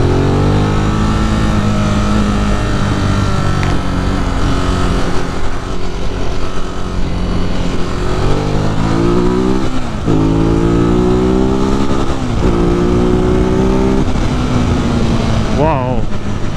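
2018 Ducati Monster 821 motorcycle ridden through New York City streets, its engine revving loud and close with repeated rising pulls through the gears over constant wind rush.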